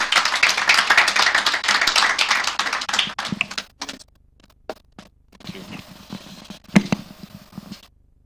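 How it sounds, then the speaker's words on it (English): An audience at a Nigerian corporate sustainability report launch applauds as the CEO is welcomed, with steady clapping for about three seconds that thins into a few scattered claps and taps. "Ladies and gentlemen, a round of applause for Mr."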